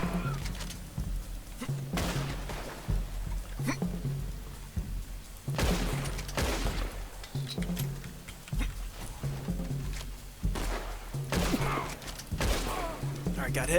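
Gunshots in the video game Red Dead Online ring out as separate loud cracks, about seven or eight spaced a second or two apart. Each shot is sharp and heavy, with quieter background ambience between them.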